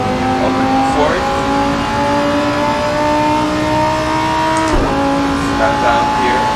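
Race car engine in the Assetto Corsa video game holding a steady, loud drone with harmonic tones, a brief dip as it shifts near the end, with faint speech underneath throughout.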